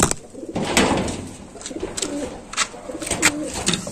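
Rampuri pigeons cooing in a loft in Lucknow, several soft, rolling coos repeated close by, with faint rustling and clicks between calls.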